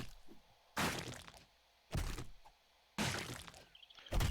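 Four heavy chopping impacts in 7 Days To Die land about a second apart, each a loud thunk with a splintering crack that trails off into quiet.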